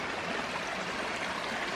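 Waterfall in Bankhead National Forest, Alabama, a steady broad rush of falling water heard from a short distance, continuous and even with no voices.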